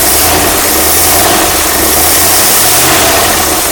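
The engine of a 1959 Mercury Monterey, sitting unused for a decade and hesitating on throttle, runs loud and close with a rough, steady roar that rises slightly as it is given gas.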